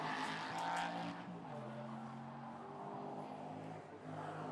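A Porsche 981 GT4 race car fires out of the pits during a GT4 European Series race at the Red Bull Ring, its engine note loud and close, then shifting and droning as it pulls away.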